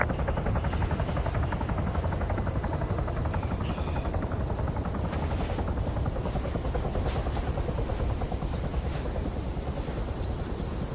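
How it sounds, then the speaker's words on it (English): A video game helicopter's rotor chop throbs steadily and loudly for the whole stretch, a continuous dense roar with no speech over it. "Helicopter, 400 meters, bearing 105."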